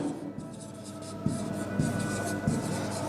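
Pen scratching across paper while a number line is marked for a sixth-grade integers lesson, several short strokes in quick succession, close and faint.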